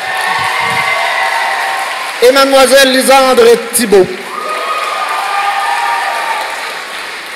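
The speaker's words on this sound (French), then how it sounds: "je vous demande de les applaudir bien fort, même si vous le faites tout le temps" An audience at a graduation gown ceremony gives steady, loud applause for award finalists, with a brief burst of cheering in the middle while an announcer speaks over the clapping.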